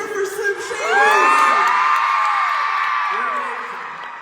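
A crowd at a live Sturniolo Triplets surprise party tour show in Denver breaks into loud, sustained cheering and high-pitched screams that swell and then fade slowly.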